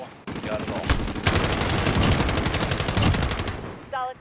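Sustained automatic gunfire in a Call of Duty: Modern Warfare co-op mission, a dense rapid rattle of shots running almost nonstop, with a short voice and a pause near the end.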